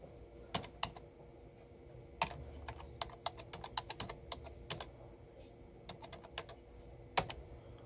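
Irregular keystrokes tapping on a computer keyboard, quiet and close, with scattered clicks and short pauses in a hushed room.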